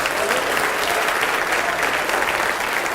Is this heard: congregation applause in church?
yes